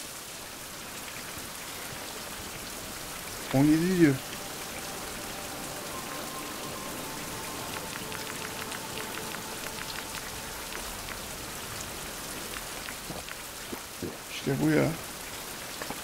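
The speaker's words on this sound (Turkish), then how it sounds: "Aa, rahmet yağıyor." Rain falls steadily as a soft, even patter that runs without a break, with brief bursts of speech and a few clicks and rustles over it partway through.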